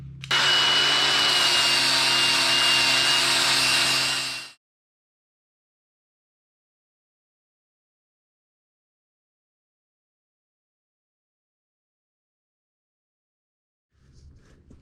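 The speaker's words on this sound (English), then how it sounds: "I'm gonna grind this paint off with my cordless Bauer grinder" A cordless Bauer grinder strips paint off steel in one loud, steady whine lasting about four seconds, then cuts out to silence before a faint restart near the end.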